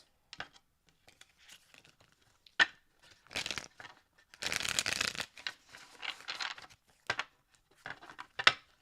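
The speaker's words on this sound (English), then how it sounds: "Last shuffle." Close, quiet hand shuffling of tarot cards, scattered taps and soft riffles building to a longer flurry of card flutter, then a few final knocks, with no voices.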